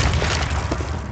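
A flashbang grenade in the CS:GO shooter game goes off as a single dull, loud boom that fills a brief moment, with no talk.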